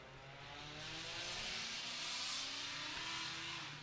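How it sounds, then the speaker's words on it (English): Loud race cars, including Porsches, pulling out of the pits at a racetrack, engines droning and swelling as they pass at a moderate distance with no voices. "A lot of loud cars leaving the pits sound here."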